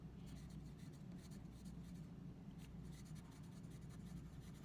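Pencil or pen scratches steadily across paper while writing out a quote, a faint continuous rubbing with small rhythmic strokes, close and quiet.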